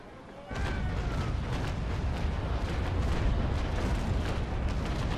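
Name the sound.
ship cannon broadside firing in video game Naval Action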